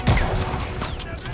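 Dense burst of rapid gunfire from a soldier in Call of Duty: Vanguard, close and loud, overlapping with a voice talking.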